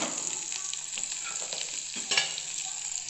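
Medium-sized onion frying with garlic in hot oil over a medium flame, a steady close sizzle with scraping stirs.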